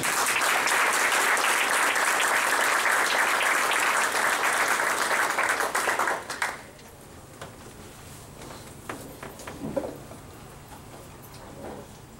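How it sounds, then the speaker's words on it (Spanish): Loud, dense applause from a law school audience welcoming Judge Martínez Torres, a full crowd clapping steadily for about six seconds before it stops abruptly, leaving a quiet room with a few scattered claps and faint noises. "Acompáñenme en aplaudir al juez Martínez Torres"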